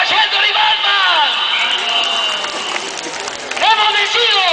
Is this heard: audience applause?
yes